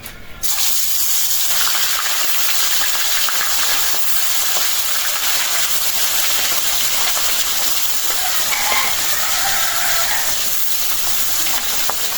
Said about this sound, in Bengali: তেলটা গরম হয়ে গেছে মাছ দিয়ে দিই